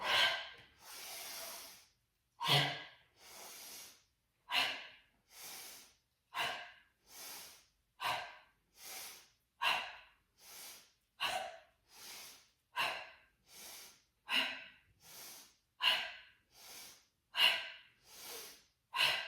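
Deep yoga breathing, close and clear: about a dozen rhythmic inhales and exhales come in steady waves roughly a second or two apart, each a soft airy rush.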